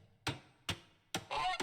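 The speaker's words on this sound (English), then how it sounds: "2 geese," Geese honking in the video game Age of Empires 2, four short, sharp honks in an uneven rhythm, clear and close against near silence, the last two coming in quick succession.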